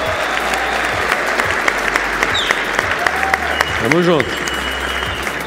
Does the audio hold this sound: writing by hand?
no